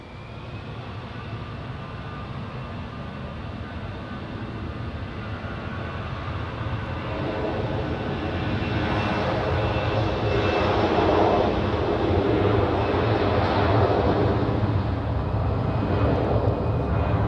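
An Airbus A350 airliner at Zurich Airport gives a steady jet engine roar that gradually swells louder, with faint whining tones rising over the broadband rush and no talk.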